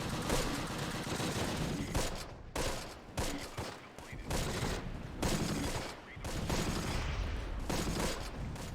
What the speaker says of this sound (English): they are met with heavy automatic weapons fire from the chateau